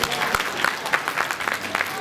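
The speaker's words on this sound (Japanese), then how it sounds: "高砂の席に着かれた2人に今一度大きな拍手をお願いします。" Audience applause for Chunichi Dragons players Shuhei Takahashi and Shinnosuke Ogasawara at a New Year talk show, a continuous patter of many hands clapping with a voice heard faintly beneath.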